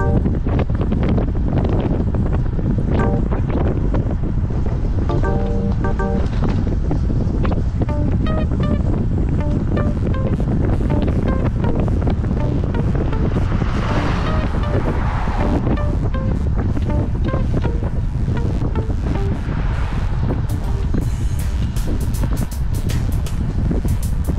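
Strong wind gusting into an outdoor microphone, loud rough buffeting with bursts of roar that rise and fall steadily and continuously.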